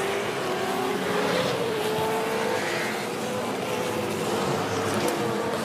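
Dunlop Super2 Series race cars roar together on a warm-up lap at the Newcastle street circuit, a dense, loud, continuous engine drone with no break.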